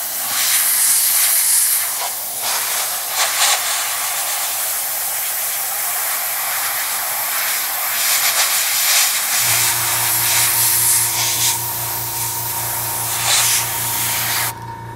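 Airbrush spraying base coat onto the rear deck of a Sturmgeschütz III Ausf B scale model kit, a steady close hiss in bursts, then a lower mechanical hum from the compressor joining in partway through.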